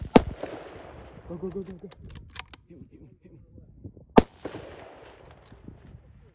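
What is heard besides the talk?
gunshots fired at hogs while hunting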